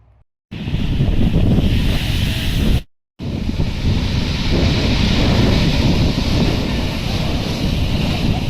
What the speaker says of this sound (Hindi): समुद्र में बड़ी भरती के कारण उठती ऊंची लहरों का नजारा